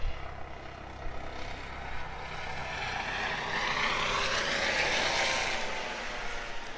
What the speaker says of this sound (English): I don't know if you heard, the chopper went by